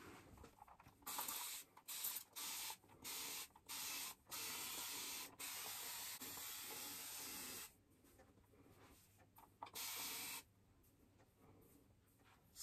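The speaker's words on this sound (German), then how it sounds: "Jetzt werde ich sie einfach mal nass sprühen." A spray bottle mists water onto hair, with a run of short hissing bursts followed by several longer sustained sprays, close and clear with no talking.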